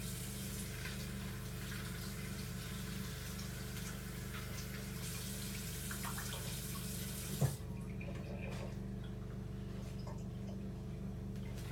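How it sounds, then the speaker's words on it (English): Tap water runs steadily into a sink over pak choi as it is rinsed, a constant close gushing hiss that carries on without a break for the whole stretch, with one brief knock partway through. "let me just put them under the tap"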